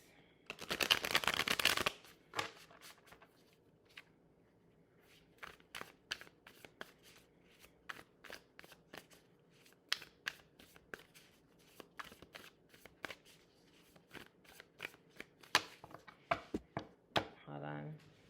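Tarot cards are shuffled close by: a dense riffle burst at the start, then a long run of quiet, irregular flicks and taps as the deck is handled, over a soft, low background.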